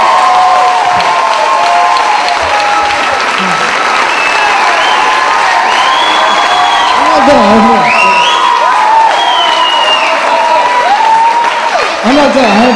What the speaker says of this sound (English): But how about a round of applause for Mr. Thomas and Christie Lane?